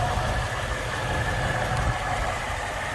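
A heavily modified Ford Mustang S550 engine idles steadily and close by, with a deep, rumbling low end and a continuous, even drone throughout.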